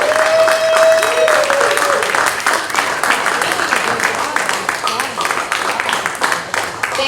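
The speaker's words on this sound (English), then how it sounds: "Thank you for clapping at my abuse." A comedy night audience breaks into loud sustained applause and clapping that fills the room, with a voice speaking over the crowd as the clapping continues steadily before tapering slightly.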